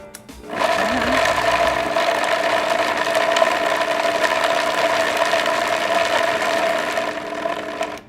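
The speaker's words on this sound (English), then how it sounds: "We're just gonna put that into the Vitamix. We're gonna start on low." A Vitamix blender grinds walnuts on low speed to a coarse texture. It starts with a rising whir and then holds a loud, steady mechanical drone for about seven seconds before stopping.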